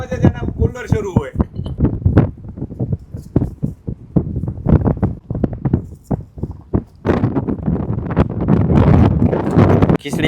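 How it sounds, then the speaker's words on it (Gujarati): Strong wind blows across an island in the middle of the ocean, rumbling and buffeting the microphone in gusts beneath steady talking, heaviest near the end. "બાકી ખૂબ વધારે પવન છે"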